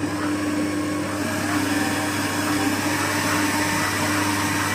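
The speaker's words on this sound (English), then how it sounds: "So I'll turn on the mixer right now." An electric mixer beats cake batter on low speed, giving a continuous, even motor hum with a steady drone throughout.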